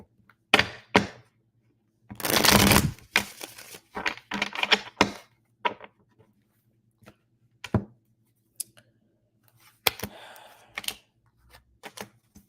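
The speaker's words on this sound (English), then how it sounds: "Give it one more shuffle." Playing cards are shuffled close up in crisp riffling bursts, followed by scattered taps and slaps as the cards are handled and set down.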